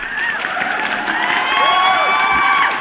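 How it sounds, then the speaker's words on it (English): A short burst of crowd cheering and applause with whoops and shouted voices swelling over a dense clapping bed, fairly loud throughout. "let me give you a round of applause, bro"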